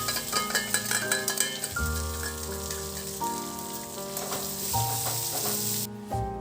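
Capsicum and garlic sizzle and crackle steadily as they are stir-fried in a pan, a soft, even frying hiss beneath prominent background music.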